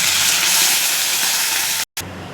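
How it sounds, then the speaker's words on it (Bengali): Whole spices for tempering hit hot oil in a wok while taro leaves are being cooked, giving a loud, dense, continuous sizzling hiss that breaks off briefly near the end. "কড়াইতে তেল দিয়ে দিচ্ছি, দেখুন ফোড়নটা দিয়ে দিচ্ছি।"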